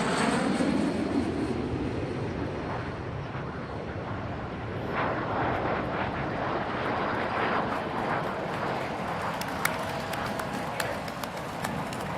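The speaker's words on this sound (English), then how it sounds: "Just a gorgeous landing at Charleston International Airport" A Boeing 787-10 on its first flight lands at Charleston International Airport, with loud jet engine roar and rumbling wind that settle into a sustained rushing noise, plus scattered clicks and an announcer talking over it.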